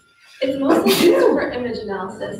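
A single sharp sneeze cuts in near the start and overlaps someone speaking during a presentation, with his talk continuing afterward.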